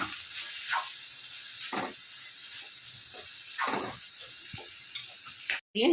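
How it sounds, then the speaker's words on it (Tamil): Grated coconut, cumin, pepper and chilli powder are stir-fried in a pan for poriyal. A steady hissing sizzle continues under repeated soft scraping strokes of a spoon, with a brief cutoff near the end. "இப்போ அச்சு தேங்காய் ஜீரகம் மிளகு தனி மிளகாத்தூள் இதெல்லாம் போட்டு நல்லா கிண்டி எடுக்கணுங்க"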